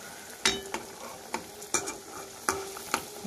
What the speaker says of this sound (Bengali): দেখো এটাকে আমি একদম লো হিটে, লো টু মিডিয়াম হিটে এটাকে একদম ব্রাউন করে আমি ভেজে নেব।